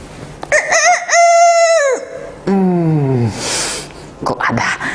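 A rooster crows twice up close, loud drawn-out calls separated by a short pause, with a few faint background noises around them.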